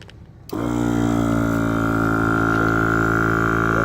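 A small portable air compressor for inflating an RV tire switches on abruptly after a brief quiet moment, then settles into a steady, loud, buzzing motor drone.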